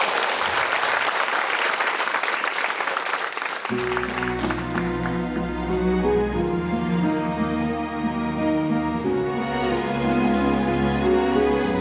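Concert audience applauding singers at a large performance, loud applause at first, then continuing under music as a song begins.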